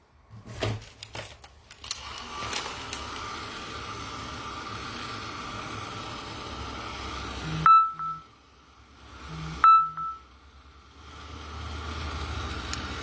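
Phone notification sounds at a crafting table: a few short electronic beeps and tones, including two paired chimes around the middle, over a low background hum, with some clatter at the start.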